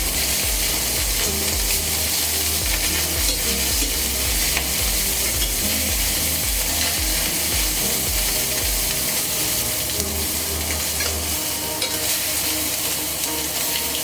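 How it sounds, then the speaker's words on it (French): A pork filet mignon sears in a hot pan with a loud, continuous sizzle and crackle, joined by rhythmic scraping and stirring knocks, close up, with no talking. "maintenant on va saisir notre viande de toutes les faces à peu près pendant 1 minute"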